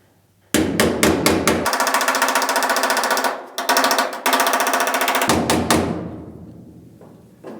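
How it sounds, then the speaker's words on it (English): A hammer taps dents out of a car's rear body panel on a GTO restoration, giving a close, loud run of quick metallic strikes in fast clusters with short gaps between them. "And you can tell I'm not hammering, I'm tapping, okay?"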